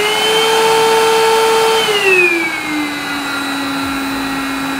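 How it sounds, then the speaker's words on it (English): Eureka RapidClean Pro cordless vacuum cleaner on its low setting gives a steady high-pitched whine, with the motor tone dropping partway through as the speed settles lower, loud and close with no talking. "So this is low."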